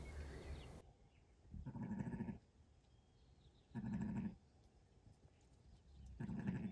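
Katahdin/Dorper sheep bleating on a farm where a ewe has just birthed twins: three loud, wavering bleats spaced about two seconds apart over a quiet background, with no talking.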